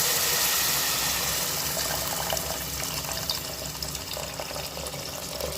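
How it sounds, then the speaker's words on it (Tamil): Tamarind water is poured into a frying fish curry base, a steady gushing, sizzling wash that runs continuously for several seconds at close range with no talking. "இந்த புளித்தண்ணியை சேர்த்துக்கலாம்."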